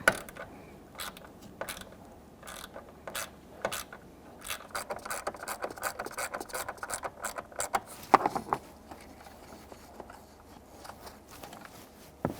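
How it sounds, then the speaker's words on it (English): A 1/4-inch ratchet with a 7mm socket removes the hood release handle bolts on a 2000-2007 Ford Taurus. It gives faint, quick bursts of clicking with short pauses between them, close by and with no talk. "So I'm using a 1/4" ratchet with a 7mm socket."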